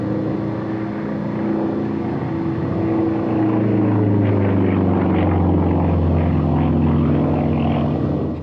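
A Yak-54 aerobatic propeller plane drones steadily overhead, its engine tone shifting in pitch as it passes, loud and continuous.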